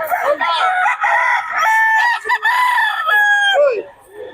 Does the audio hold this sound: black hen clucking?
yes